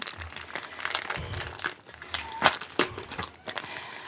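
Soft, irregular crinkling and rustling of plastic, close by and fairly quiet, with a few sharper crackles scattered through.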